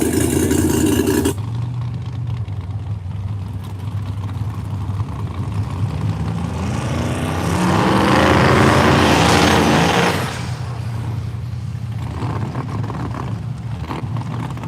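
A turbocharged Chevy S10 and a Mustang at a no-prep drag race, with a loud engine roar building and swelling mid-clip over steady background rumble, heard from a distance.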